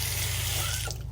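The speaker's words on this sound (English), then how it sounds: "I turned on the cold water." Cold water tap running steadily into a sink, a loud continuous splashing rush with a low gurgling hum, easing slightly just before the end.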